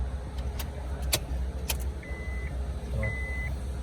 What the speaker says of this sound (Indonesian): kita harus mengonkan mesin terlebih dahulu